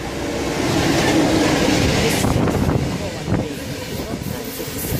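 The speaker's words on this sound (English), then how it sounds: "This is Freightliner. 66254 in the front." Freightliner freight train led by locomotive 66254 rolls past at Swanscombe, a loud, steady rumble with hiss and wagon clatter swelling and easing slightly over a few seconds, with a voice speaking over it.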